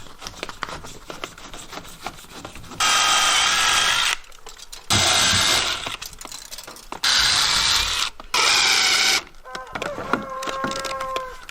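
Power drill driving screws into a door frame during a home door installation, four loud bursts of whirring motor, each a second or so long, separated by quieter handling noises.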